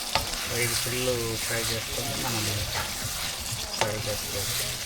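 Chicken frying in oil, a continuous sizzle with stirring scrapes running under someone talking throughout.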